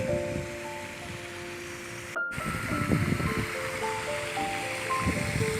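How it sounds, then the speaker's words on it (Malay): Fountain water jets in the lake at Taman Tasik Permaisuri give off a steady, even rush of splashing water with a brief dropout midway. "Kita lihat banyak air pancuran ataupun water jet untuk menggalakkan pergerakan air."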